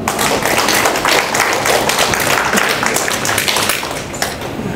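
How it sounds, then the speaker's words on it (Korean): Audience applause in a lecture hall during a police station talk, dense steady clapping filling the whole span, loud and close, fading slightly near the end. "박수 한번 칩시다"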